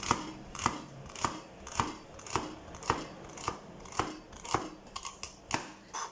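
Vegetables for a vegetarian casserole are sliced by hand, with about a dozen crisp, evenly spaced cuts that quicken into a faster cluster near the end, close and fairly quiet.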